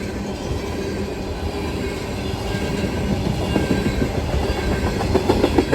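A freight train with Southern grain cars rolls past close by, a dense continuous rumble with rhythmic clickety-clack of wheels over rail joints growing louder toward the end.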